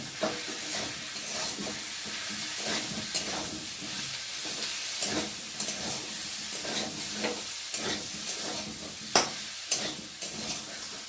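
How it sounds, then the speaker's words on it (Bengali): Turmeric, cumin paste and tomato masala bubble and sizzle in a pan, a low continuous fry with intermittent stirring scrapes and occasional clinks, fairly quiet and close, without speech. "জিরে বাটা আর একটা টমেটো এই মশলাটা ভালোভাবে ফুটিয়ে নেব"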